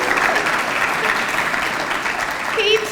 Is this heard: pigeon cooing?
no